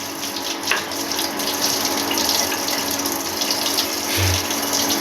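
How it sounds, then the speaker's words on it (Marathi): A young girl scrubs dishes and a rolling pin under a running kitchen tap: a steady, close hiss of flowing water with faint clinks and rubbing of utensils throughout. "किती छान भांडे घासतीये"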